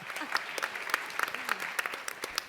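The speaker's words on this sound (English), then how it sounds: "Let's give a round of applause again." Audience applause at a student ambassadors' sports initiative pitch event, steady hand clapping with individual sharp claps standing out, moderately loud and close, lasting the whole stretch.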